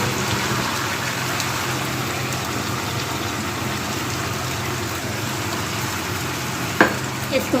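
Cumin and potatoes for jeera aloo frying in a pan: a dense, steady sizzle fills the whole stretch, with a couple of brief utensil knocks near the end.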